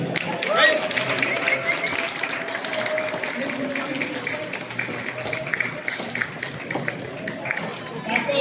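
An indoor audience at a university cherry blossom festival claps steadily for a kendo club demonstration, a sustained patter of applause with a voice speaking over it.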